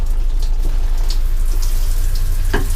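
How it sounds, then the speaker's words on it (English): Water sprays steadily from a shower in the bathroom of a 2014 Forest River Georgetown 351 DS motorhome, a loud, even rushing hiss close by with a few small splashes and no talk. "So if I turn on my shower"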